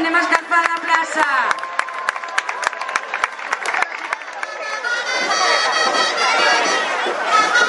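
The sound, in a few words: crowd applause in the town square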